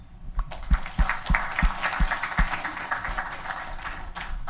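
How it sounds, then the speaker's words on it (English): Applause at a Go 1.9 release party meetup, a modest crowd clapping with several distinct louder claps early on and a softer, scattered patter continuing to the end, fairly close and alone. "round of applause"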